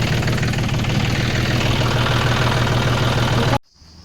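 A tractor engine runs loud and close while paddy sacks are loaded, a steady chugging idle with rhythmic knocking that cuts off abruptly near the end, leaving near silence.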